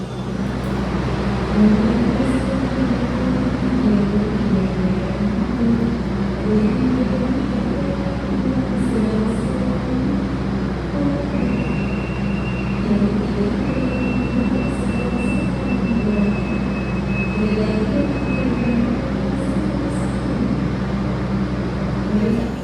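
Constant low rumble of trains idling and moving through busy Madiun railway station in Indonesia, with a steady hum, faint distant hiss and a brief high squeal.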